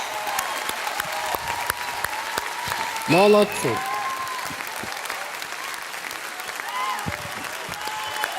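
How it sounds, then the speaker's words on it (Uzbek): An audience at a talent show claps after a folk song performance, a short loud burst of applause standing out amid steady hall noise, with a voice speaking over it. "olqishlab qo'yamiz"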